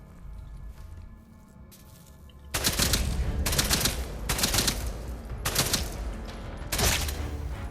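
Bursts of automatic gunfire from the video game Atomfall, several loud sustained volleys separated by short pauses, following a quieter stretch of low background ambience.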